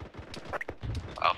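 Gunfire crackles during a military ambush training exercise by the 15th Marine Expeditionary Unit, with several sharp, fairly distant shots in quick bursts amid shouting voices and radio chatter.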